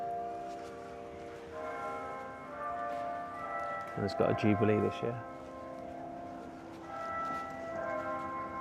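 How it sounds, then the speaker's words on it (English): Bells of the Cathedral Church of Saint Marie in Sheffield ring out in the street, with a louder burst of clanging in the middle, under someone talking. "and there goes the bells"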